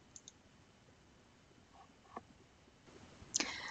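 A single computer mouse click on a Next button while filling in a web form, a faint, brief tick near the end amid quiet room tone.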